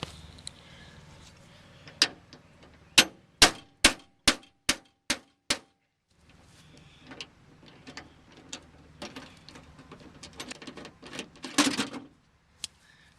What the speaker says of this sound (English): So I'm going to remove this handle, remove the latch